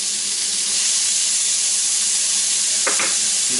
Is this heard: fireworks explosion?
no